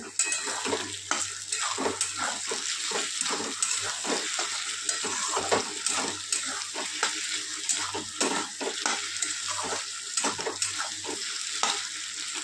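Rice and egg fry steadily in a pan, with a continuous sizzle broken by rhythmic scraping strokes of a spatula stirring throughout, close and without any voices.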